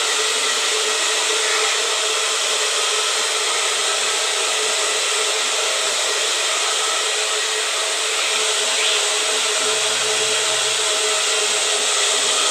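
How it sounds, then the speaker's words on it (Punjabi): A hair dryer runs steadily at close range while drying someone's hair, a continuous loud whooshing drone that holds unbroken throughout with no talking over it. "ਮਮਾ ਹੁਣ ਬਾਲ ਸੁਕਾ ਰਹੇ ਆ"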